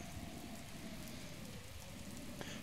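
Steady rain falls in Zelda: Breath of the Wild, a continuous soft hiss of drops with no pauses, heard alone.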